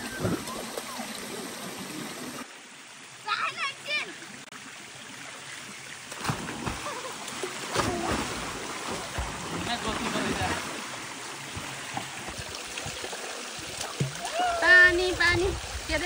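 A child splashes and kicks while swimming in water on a summer family outing, soft irregular splashing under running water and voices of adults talking and coaxing nearby.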